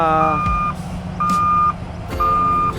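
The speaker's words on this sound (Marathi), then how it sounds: "हे बघा कशा कशा गाड्या निघतात बघा उतरण आहे आणि तो उतरला" Trucks on a descending ramp of the Samruddhi Mahamarg highway, with a loud electronic beep repeating three times at a steady rhythm over a low engine rumble and road noise.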